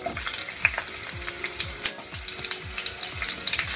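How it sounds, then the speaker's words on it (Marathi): Radish slices and mustard seeds fry in hot oil, making a steady close sizzle with sharp scattered pops and crackles and soft stirring scrapes; no voices. "तेल गरम झालं की यामध्ये थोडी मोहरी घालायची आणि कापून घेतलेले मुळ्याचे काप यामध्ये घालायचे तेलामध्ये"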